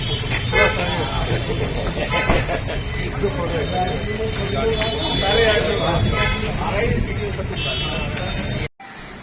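Car horns toot repeatedly amid dense road traffic and engine rumble, close and loud, with voices talking over the street noise.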